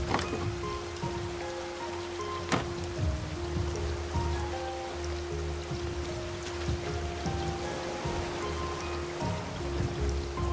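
Rain falls steadily in the survival game Raft, a continuous patter on water and surfaces with a few sharper clicks and a low tonal hum underneath, no talking.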